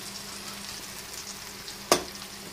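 Capsicum frying in a pan as chopped onion and chili powder go in, a steady low sizzle throughout with one brief sharp crackling burst near the end.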